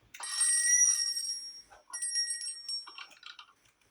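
A video game doorbell inside a grandmother's house rings in bright metallic trills, two bursts of ringing followed by softer scattered chimes, fairly quiet and without talk.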